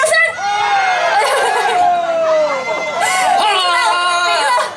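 A concert crowd at the opening night of the Baihe lotus festival screams in loud, sustained, high-pitched cheering that swells in waves and fills the whole stretch, with voices layered over it.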